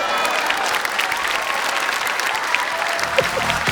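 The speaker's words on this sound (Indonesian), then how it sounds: "Tepuk tangan dong." Studio audience applause on an Indonesian comedy show, a loud, sustained wash of clapping with faint voices underneath, tapering slightly near the end.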